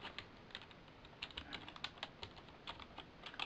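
Quiet keystrokes on a computer keyboard used to type into a Windows RT device, an uneven patter of soft taps with no voice over them.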